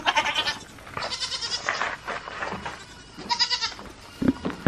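Several goats bleating on a farm, a run of wavering, nasal cries overlapping at close range, fairly soft, with brief pauses between calls.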